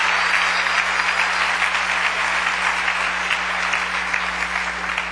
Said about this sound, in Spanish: Démosle un aplauso al Rey.